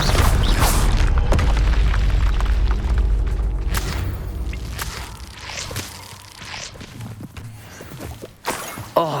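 A spell cast in the Hogwarts Legacy video game lands as a deep booming burst, followed by fading rumble, thuds and scattered whooshing game effects.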